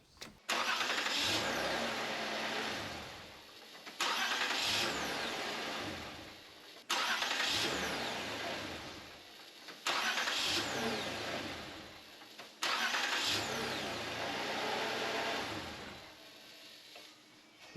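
A 2007-2011 Toyota Camry engine cranks and starts five times in a row after a new starter motor is fitted, each start a short whirring crank that catches into a steady idle and then shuts off.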